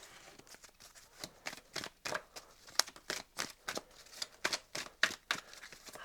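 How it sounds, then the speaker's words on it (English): Tarot cards being shuffled by hand, a quick series of papery riffles and soft slaps in irregular bursts, close and fairly quiet with no talking. "A little shuffle."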